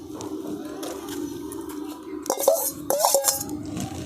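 A spoon scrapes and clinks against a pan while besan is stirred into hot sugar syrup, soft scraping building to a few brighter metallic knocks, close and quiet over a steady low kitchen hum.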